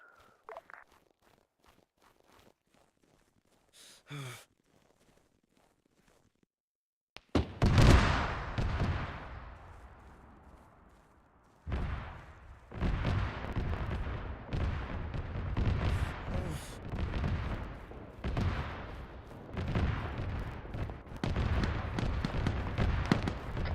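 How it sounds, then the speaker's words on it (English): Gunfire in the Arma military video game, near silence and faint ticks first, then a sudden loud burst followed by repeated sharp reports and rolling distant shots, fairly loud and continuous. "Shots north."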